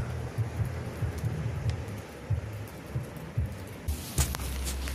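Steady rain falls on a campsite in a dense, even wash, with soft low rumbling underneath and a brighter hiss of heavier rain near the end.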